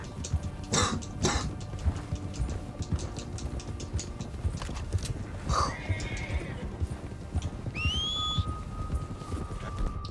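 A horse whinnies and its hooves clip-clop in the Red Dead Redemption 2 video game, set in the Colter chapter, with a whistle near the end over a steady outdoor ambience.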